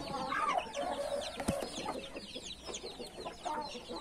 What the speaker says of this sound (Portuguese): A galinha de pintinho aí.